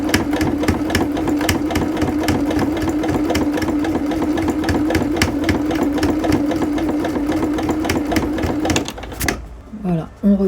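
A sewing machine stitches a skirt seam at stitch width 2.5, a steady, loud, close mechanical whirr with a rapid needle rhythm that stops abruptly near the end, leaving a few faint handling sounds.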